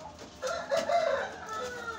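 A rooster at a small home mini zoo crows once nearby, a loud drawn-out call standing alone over light background noise, with no talking.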